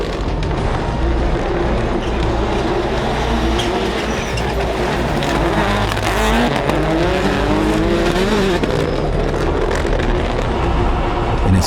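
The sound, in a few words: rallycross race cars launching at race start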